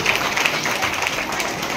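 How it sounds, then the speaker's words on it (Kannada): A crowd at a women's Guru Vandana gathering in Harakud village claps loudly for the Belamage family. The dense, continuous applause is mixed with voices. "ಹಾರಕೋಡದ ಬೆಳಂಗೆ ಪರಿವಾರಕ್ಕೆ ಜೋರಾದ ಚಪ್ಪಾಳೆ ತರಬೇಕು"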